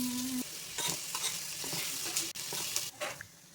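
Onions frying in oil in a small kadai, a steady sizzle broken by intermittent stirring scrapes and clinks, close and moderately loud with no voices.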